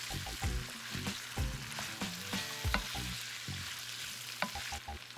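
Thinly sliced potatoes frying in a pan, a soft steady sizzle broken by repeated scraping thumps of a spoon stirring them, close but fairly quiet, with no talk.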